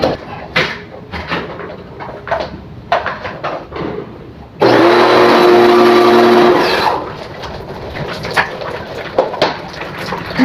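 A high-pressure water sprayer blasts an aircon unit in a loud, hissing burst lasting a couple of seconds, set between quieter stretches of clattering handling noise.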